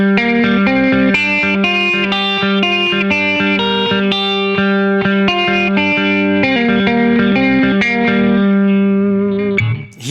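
An electric guitar plays a pedal-tone lick through effects with distortion and chorus, a quick run of bright, sustained notes repeating over a droning bass note, loud and close with no voices.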